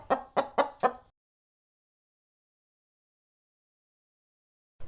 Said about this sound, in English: Chickens are primarily kept for their eggs and meat.